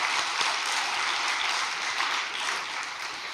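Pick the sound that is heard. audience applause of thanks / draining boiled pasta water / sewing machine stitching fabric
audience applause of thanks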